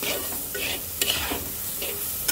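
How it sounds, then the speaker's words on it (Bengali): Turmeric, coriander powder and salt fry in a pan for a hilsa and taro curry, with a close, steady sizzle broken by repeated scraping stirs from a spoon. "2-1 মিনিট ঠিক এভাবেই আমি এটাকে ভাজা ভাজা করব।"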